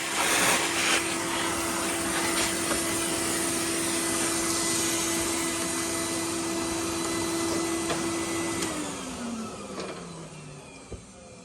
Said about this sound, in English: So let's go to the lathe.